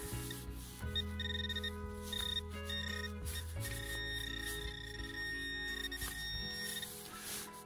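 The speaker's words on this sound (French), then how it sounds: "Ça sonne encore. Ouais. J'ai bien fait de pas rebouger, je passe un coup de détecteur" Metal detector on a beach in Finland giving steady electronic tones and beeps that shift in pitch and repeat over several seconds, alone without talk.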